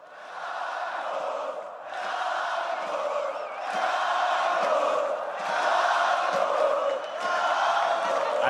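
Crowd at an esports All-Star event cheering and chanting in waves, a large hall of voices rising and falling in sustained surges, loud and reverberant, with no single speaker standing out.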